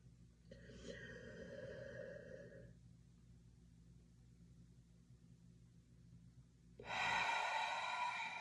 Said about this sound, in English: you're inhaling through your nose and your mouth.